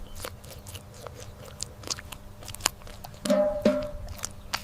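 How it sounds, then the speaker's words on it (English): A honey badger bites through honeycomb wax, giving repeated crisp crunching and chewing snaps close up, uneven in rhythm and louder toward the end, with no voices. "She bites through the wax, gulps the syrup."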